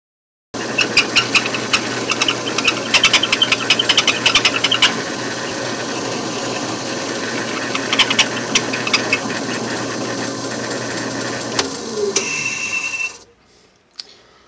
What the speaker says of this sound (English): I've drilled my hole with this 3/1/64 bit to 2¾ inches deep